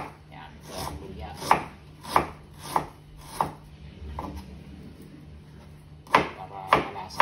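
A knife chops ginger on a board in sharp, evenly spaced strikes, about eight clear hits in two bursts separated by a quiet pause, close and crisp.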